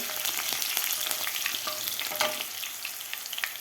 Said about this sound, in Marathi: मिरची आणि कढीपत्ता व्यवस्थित आपल्याला परतून घ्यायचा आहे.